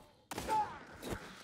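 AK-47 gunfire in the shooter game XDefiant: two short, sharp bursts about three quarters of a second apart, moderately loud against a quiet background.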